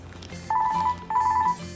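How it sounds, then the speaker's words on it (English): A phone rings with an incoming call, two clear repeated trilling bursts at moderate loudness over a low background hum, with quiet gaps between them and no talking. "Sorry about that, I had a phone call."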